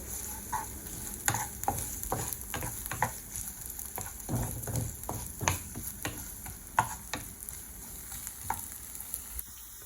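Chili, turmeric and cumin powder frying in a pan while being stirred, a continuous sizzle with rapid, irregular spatula taps and scrapes, close and moderately quiet, no voices.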